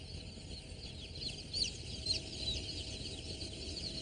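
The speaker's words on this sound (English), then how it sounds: "There are 15 boxes, each containing 80 chicks" Young chicks packed in fifteen boxes of eighty after a long flight give thin, high cheeps that rise in scattered bursts over a low background rumble, faint and somewhat distant.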